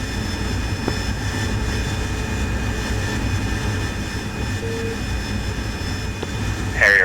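Jet aircraft engine in the DCS combat flight simulator during an Afghanistan 2001 mission, a steady loud cockpit roar with whining tonal hums, continuous throughout, with a brief radio-like squelch near the end.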